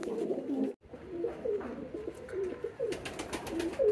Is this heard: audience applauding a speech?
no